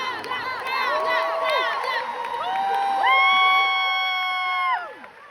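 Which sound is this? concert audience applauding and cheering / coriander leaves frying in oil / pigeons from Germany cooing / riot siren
concert audience applauding and cheering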